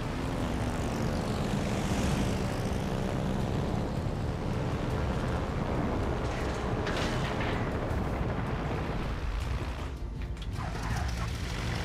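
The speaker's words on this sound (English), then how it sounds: "Oh, we're gonna have to put the bombers out there." Bomber aircraft in World of Warships: Legends roar overhead, a dense, loud propeller-engine drone with sweeping pitch changes and rumbling bursts throughout, steady and close, with no speech.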